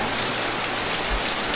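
Rain falls steadily around a nearly collapsing house, a loud, dense, unbroken patter of drops on surfaces close by with no voices.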